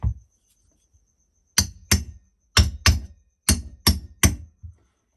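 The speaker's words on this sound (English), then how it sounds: "give it a tap now with a hammer" Sharp metallic taps of a hammer on a metal part of a knocking hedge trimmer engine, six distinct ringing strikes in a loose rhythm, close up in an otherwise quiet space.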